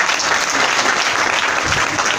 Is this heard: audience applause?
yes